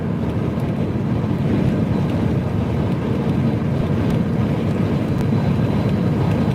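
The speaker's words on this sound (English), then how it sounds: "So we're going to have to be turning on our engine fan to make sure the engine" A truck's engine cooling fan runs as a steady, loud, low drone that holds constant throughout, with no voices.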